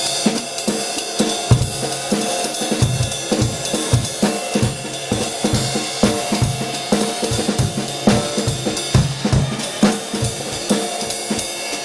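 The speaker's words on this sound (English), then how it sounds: "But with jazz, it's a little trickier. It's a lot of fun to play. It can sound like this." A drum kit plays a jazz swing rhythm, with busy ride cymbal, snare and kick figures close up and fairly loud, continuous throughout with no talking.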